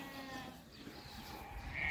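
Young lambs for sale in a livestock pen give a thin, wavering bleat near the end, quiet and close, over faint farmyard background.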